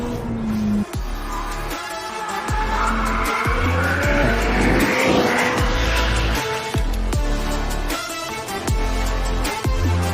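McLaren 765LT at Silverstone braking hard from around 172 mph, its engine note dropping through a series of rapid downshifts with blips and tyre squeal; loud and close, heard from inside the car, with no talking.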